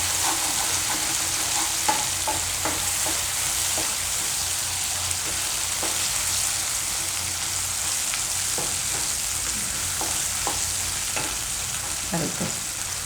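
Paneer and coconut cream gravy paste cooks in hot oil over a lowered gas flame, giving a steady close sizzle and bubbling throughout, broken by occasional scrapes and stirring taps of a spoon against the pan.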